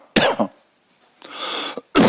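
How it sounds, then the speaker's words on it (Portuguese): Three harsh coughs close to the mic, a sharp one, a longer rasping one, then another sharp burst, separated by brief silences. "me desculpem aí por estar tossindo"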